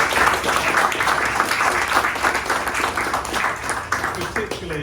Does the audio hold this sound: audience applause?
yes